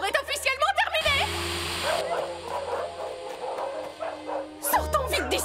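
Dogs yipping and barking amid chaos at a dog contest in a stadium in an animated cartoon, a busy jumble of yaps and whimpers under and between speaking voices.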